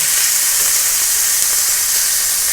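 Thinly sliced pork stir-frying in a frying pan for a Chinese-style dish gives off a loud, constant, close hissing sizzle with no breaks and no talking.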